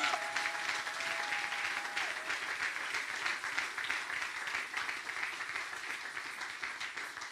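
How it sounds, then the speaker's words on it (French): A church congregation claps together during a service, a steady continuous patter of applause heard from some distance and fairly quiet throughout. "Alors acclamez pour vous-même."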